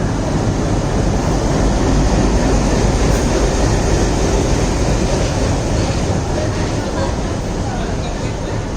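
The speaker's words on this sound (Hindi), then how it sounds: "लखनऊ के WDP-3A के साथ ये ट्रेन अलाइव कर रही है मडगांव जंक्शन में" A train hauled by a WDP-3A diesel locomotive rolls into Madgaon Junction in the rain. A steady, loud rumble of wheels and engine fills the whole stretch without easing.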